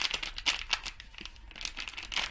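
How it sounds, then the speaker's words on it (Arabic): A plastic package of dessert mix crinkles and rustles as it is torn open and handled at close range, with irregular crackling bursts throughout. "انا بس عايزه افتحها ونشوف من جوه هم حاطين ايه"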